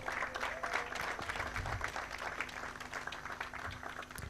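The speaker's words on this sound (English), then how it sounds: "Ladies and gentlemen, let's clap for him." Audience applause greeting a panelist at an International Youth Day event, a steady wash of many hands clapping at moderate distance, sustained for several seconds with little talk.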